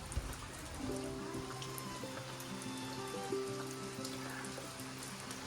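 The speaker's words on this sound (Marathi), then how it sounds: "रिमझिम रिमझिम पाऊस चालूच आहे" Soft, light monsoon drizzle patters steadily in the background in a Konkan village, faint and continuous, with a few quiet tonal sounds drifting through.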